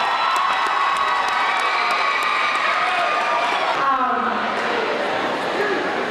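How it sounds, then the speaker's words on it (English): A pep rally crowd at a junior high event in Pine Bluff cheers and applauds loudly and continuously, a dense wall of shouts and clapping with children's voices mixed in. "Y'all give her a big round of applause"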